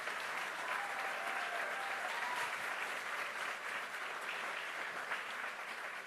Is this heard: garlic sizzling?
no